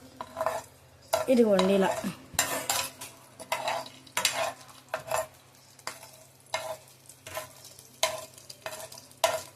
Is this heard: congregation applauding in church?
no